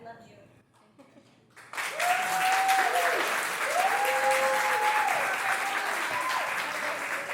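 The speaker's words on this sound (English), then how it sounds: "round of applause for Mom and Dad, ladies and gentlemen" Sustained applause for the bride's parents fills a wedding reception hall, starting abruptly and holding steady and loud for several seconds, with brief tonal sounds rising above the clapping.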